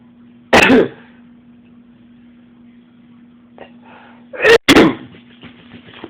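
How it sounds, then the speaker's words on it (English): Two sharp, explosive sneezes a few seconds apart, the second one doubled, close and loud over a faint steady hum. "So I had to sneeze."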